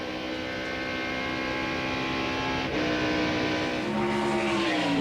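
NASCAR Busch Series stock cars racing around the track at the 2000 Lysol 200, engines roaring loud and close with rising and falling pitch as they pass, a continuous blended snarl of several cars.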